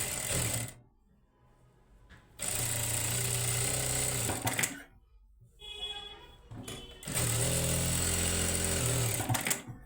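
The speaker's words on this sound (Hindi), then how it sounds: "फिर इसके बीच में हम यहाँ पर सिलाई लगा देंगे।" A sewing machine stitches semi-Patiala salwar fabric in three loud, close bursts of rapid whirring, separated by short pauses.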